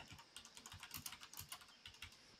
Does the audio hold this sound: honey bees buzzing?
no